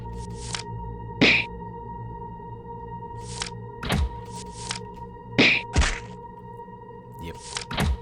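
Attack hit effects in an RPG Maker video game, a string of short thunks and whooshes over a steady electronic tone and background music.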